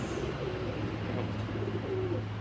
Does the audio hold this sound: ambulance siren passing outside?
no